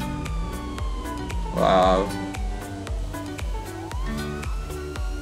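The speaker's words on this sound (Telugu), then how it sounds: "ఆ సైరన్ ఆఫ్ చేస్తే బాగుండు, నేను వినడానికి కొంచెం చిరాగ్గా ఉంది." A police siren in a driving video game mod wails with sliding tones beneath repeated rhythmic thumps, and someone talks excitedly over it.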